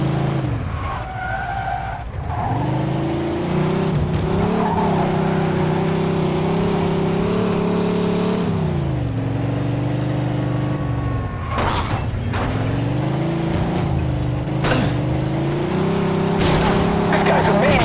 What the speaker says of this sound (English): Pursuit of a speeding vehicle.